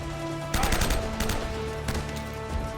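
Automatic gunfire from a machine gun in the video game Uncharted: Drake's Fortune, loud rapid bursts rattling over a busy game soundscape with background music.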